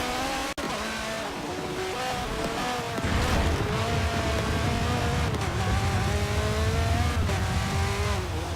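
Race car engine in Forza Motorsport 7, revving hard and shifting through gears with rising and falling pitch, a sharp click early on and a louder, fuller roar from three seconds on; close and continuous with no talk.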